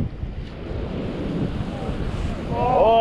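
Steady wind buffets an outdoor microphone beside open water during salmon fishing with lures, a broad low rumble and rushing noise running throughout and swelling louder near the end.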